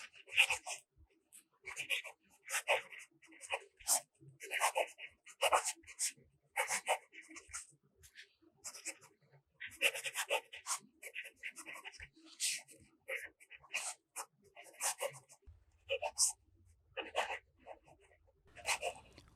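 A medium nib pen scratches faintly across paper in short, repeated strokes with brief pauses between letters, quiet and close.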